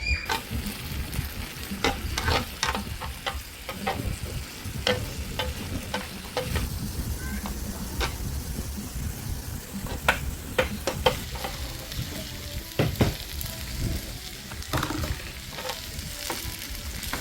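Pork belly fries in a pan outdoors with a steady, dense crackling sizzle and frequent sharp pops and spatters that run unbroken and fairly loud throughout, with no talk over it.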